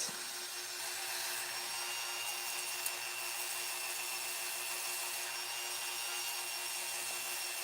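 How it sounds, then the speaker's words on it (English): A wooden spool is rubbed with sandpaper in a steady, continuous hissing scrape that holds at an even level throughout, with a faint constant hum underneath. "From here, I'll take a little bit of sandpaper to soften this up just a little bit."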